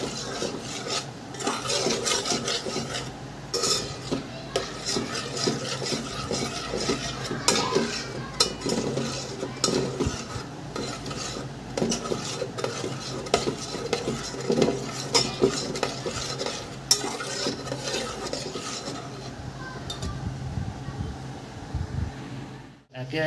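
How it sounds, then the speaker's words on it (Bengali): A spoon stirs onion sabzi in a pan, again and again, scraping and clinking against the metal over a soft sizzle of frying, steady and close for a long stretch. "ভালো করে মিক্স করবো বারে বারে"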